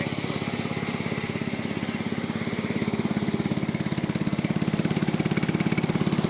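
A John Deere 210 lawn tractor engine runs with a bad muffler, giving a loud, steady, rapid throbbing putter close by that continues unbroken with no talking.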